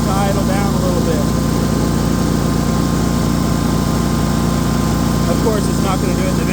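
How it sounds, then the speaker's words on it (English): A Husqvarna RZ5424 zero-turn riding mower with a 54-inch deck runs at a steady, loud drone, its engine note continuous and close with faint rattling vibration throughout. "as the mower is just running with the vibration of it running"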